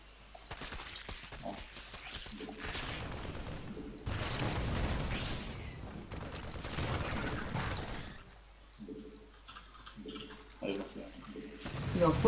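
Combat in StarCraft II, a Terran versus Zerg match during a baneling bust: dense gunfire and explosive bursts run throughout, swelling in loud clusters with brief lulls, as units come under attack.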